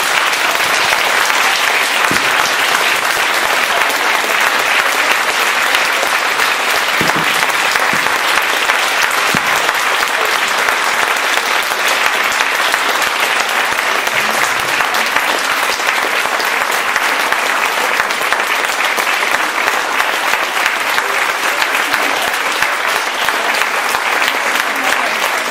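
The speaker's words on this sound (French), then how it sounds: "Je vous demande de les applaudir chaleureusement." A podcast event audience gives long, warm, steady applause, a thick even roar of many clapping hands that stays at full strength throughout.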